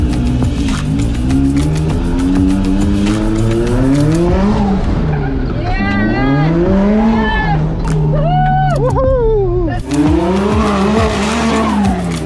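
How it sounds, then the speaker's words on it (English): A car performs a J-turn, reversing and then rotating into first gear: the engine revs climb and dip in loud sweeps while the tires squeal sharply during the spin, close by and continuous until a brief drop near the end. "You need to rotate the car when you are already in first gear."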